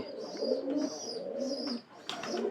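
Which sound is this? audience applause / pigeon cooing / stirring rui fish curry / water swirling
pigeon cooing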